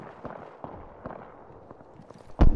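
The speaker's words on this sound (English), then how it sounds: "I hear shooting" Gunfire in the battle royale game Apex Legends: scattered distant shots pop faintly at irregular intervals, then one louder, closer crack near the end, over quiet background.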